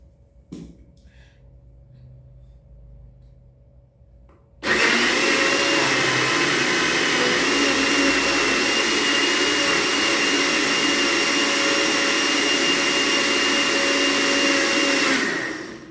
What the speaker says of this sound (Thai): ปั่นแล้วก็หยุดสักนิดหนึ่งนะคะ